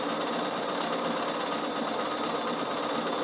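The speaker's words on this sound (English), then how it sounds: "And I'm just doing a double overlock. So it's going to go forward and back, forward and back." A Bernina sewing machine runs a double overlock, reverse-feeding stitch, moving forward and back while hemming a winter hat; a steady, close mechanical whir and rapid needle chatter continue without pause, with no talking.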